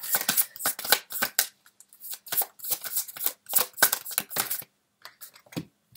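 Tarot cards are shuffled and handled up close, producing bursts of crisp riffling and flicking in quick clusters separated by short pauses, fairly quiet with no talk.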